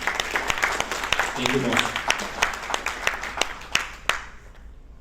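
A corporate audience applauds the company president at a Tanduay Rum gathering, the clapping steady and fairly close before fading out, while a voice speaks briefly over it.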